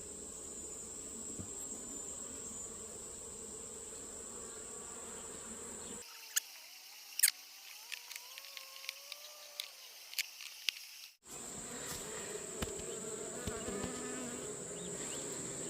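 Honeybees at an opened, weak hive make a continuous close buzzing drone. It drops out for a few seconds in the middle, where faint clicks and a wavering insect whine are heard, then resumes at full strength.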